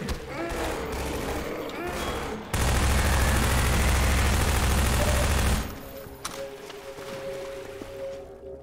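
Loud sustained burst of gunfire from a gun in Half-Life 2, a dense roar of rapid shots lasting about three seconds, followed by scattered quieter shots, with game noise around it.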